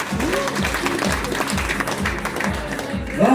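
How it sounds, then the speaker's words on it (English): Audience on a Holland America Rotterdam cruise ship game show applauds a married couple, steady crowd clapping with a voice-like tonal pattern repeating underneath throughout, fairly loud and continuous. "give them one more round of applause"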